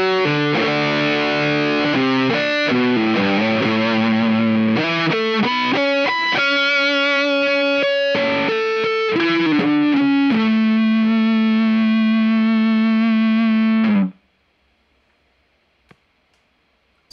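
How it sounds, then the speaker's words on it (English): Electric guitar driven through a Shiba Drive overdrive pedal plays a run of distorted notes and chords, ending on a long sustained note that cuts off abruptly into silence. "I can just add a Shiba drive to the front."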